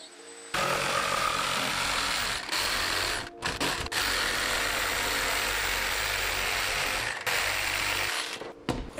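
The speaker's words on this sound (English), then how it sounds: "I just followed that up with the jigsaw." Jigsaw cutting through wood for an epoxy table build, a loud steady rasping motor drone running nearly the whole time with a couple of brief pauses, close and without talk.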